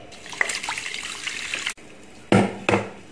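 Water poured from a tap or jug into washed rice and lentils for pongal, with a steady splashing pour for about two seconds, a brief break, then two louder bursts of running water near the end.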